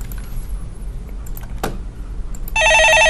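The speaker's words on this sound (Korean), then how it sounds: "전화 받아보겠습니다" A telephone starts ringing loud and close with a bright electronic trill after a quiet stretch of faint background hum and a brief knock.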